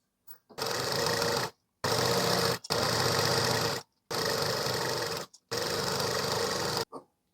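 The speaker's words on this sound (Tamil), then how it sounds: "அப்படியே இந்த ஸ்லீவை சுற்றியுமே அப்படியே தையல் போட்டுக்குங்க" An electric sewing machine stitches around a blouse puff sleeve in four long, steady whirring runs separated by short pauses, loud and close with no talk.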